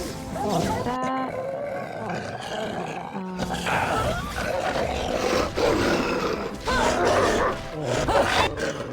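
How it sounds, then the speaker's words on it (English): Snarling, growling wolves in the fantasy video game Dragon Age: Origins, a dense continuous pack of loud guttural roars and grunts layered over combat noise. "The wolves are so loud in here."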